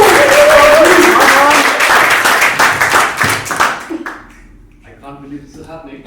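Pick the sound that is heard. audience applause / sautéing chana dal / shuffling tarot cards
audience applause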